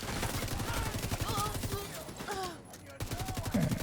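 Rapid automated turret gunfire in a video game, a sustained rattling burst that drops out briefly and then resumes, with voices talking over it.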